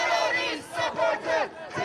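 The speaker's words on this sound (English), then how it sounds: "Chant right now is terrorist deported." A protest crowd at an Al-Quds Day rally chants in unison, several rhythmic swells of many voices rising and falling in a repeated cadence, loud and fairly close.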